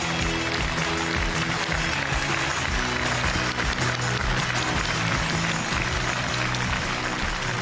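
A large lecture audience breaks into loud, sustained applause, a dense, even roar of clapping that holds steady from start to finish.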